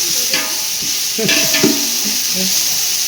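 Food sautés in a hot pan for biryani, a steady loud sizzle running throughout while a spoon scrapes and clinks as it stirs in close, irregular strokes.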